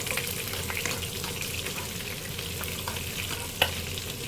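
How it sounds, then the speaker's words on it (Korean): Onions frying in a pan for chicken steak, a steady low sizzle with soft stirring scrapes and one sharp knock near the end, close and moderately quiet. "양파 조금만 더 익힐게요."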